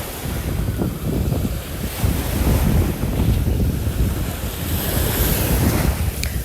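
Gentle sea waves wash steadily onto Sai Kaew Beach, Sattahip, Thailand, with a constant churning hiss, mixed with wind rumbling against the microphone.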